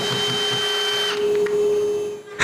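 A power drill boring pilot holes for a staircase gate hinge, a steady close whine that stops partway, then a short burst of motor noise before a final clunk, no talking.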